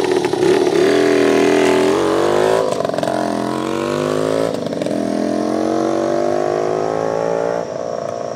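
A 1974 Indian ME100 motorcycle engine runs loud and close throughout, its steady harmonic drone rising and falling in pitch as the revs climb, with no talking.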